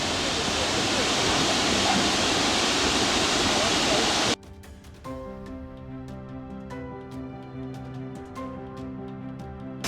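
Bonanza Falls in the Porcupine Mountains of Michigan's Upper Peninsula pours out a loud, steady roar of rushing water for about four seconds before the sound cuts abruptly to music.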